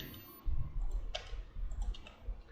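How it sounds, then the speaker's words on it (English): Faint computer mouse left clicks and a keyboard delete key press during a SolidWorks sketch edit, a few soft, close taps spread over a low desk rumble. "I am left clicking and left click of my mouse button and keyboard delete to delete the object"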